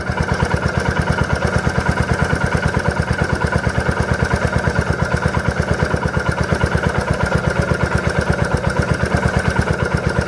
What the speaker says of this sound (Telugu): మనకి ఇంజన్ రేజ్ అయితే తగ్గుతుంది